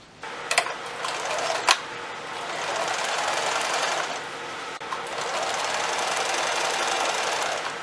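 A sewing machine stitches pieces of a Pierrot Grenade costume, running in a close, steady whir broken by a few brief ticks near the start and a short pause midway.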